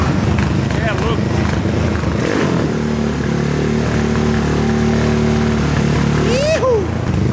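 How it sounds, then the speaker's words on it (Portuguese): Motorcycle engine running loud and close with revs rising and falling, then settling into a steady idle before a final quick blip; a voice shouts briefly near the end. "Essa moto não é monstra."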